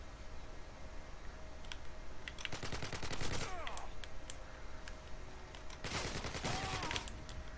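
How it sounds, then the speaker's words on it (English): Gunfire in Modern Warfare 2 multiplayer: two loud bursts of rapid automatic shots, roughly three seconds apart, over a steady game background. "I just shot something on the wall because I was scared."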